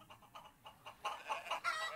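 Chickens cluck in the Baldo video game, a rapid series of short clucks building louder toward the end, faint and close with no talk.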